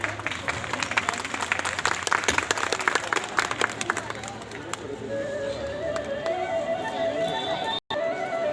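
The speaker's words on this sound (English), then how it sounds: "Please claps everyone." Applause at a school annual function after a bhangra dance, brisk crowd clapping for several seconds that fades into murmuring voices and a hum.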